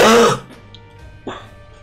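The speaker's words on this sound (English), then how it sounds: "I'm just clearing my throat." A man clears his throat once, loudly and up close, a rough raspy burst during a co-op game session, followed by near silence and a faint second short rasp.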